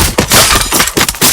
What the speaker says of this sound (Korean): 해골 깨지는 소리.